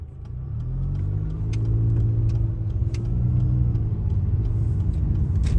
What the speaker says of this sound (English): Let's make a left turn.